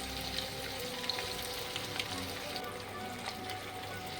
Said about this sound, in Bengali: এবার আমি পেঁয়াজ কুচি দিয়ে দিচ্ছি, 3টে মিডিয়াম সাইজ পেঁয়াজ দিচ্ছি।